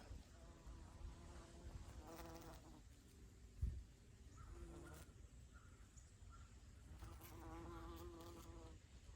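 Bees drone around hummingbird mint in a summer garden, faint buzzing that swells and fades as insects fly close to the microphone, with a soft bump and quiet outdoor background.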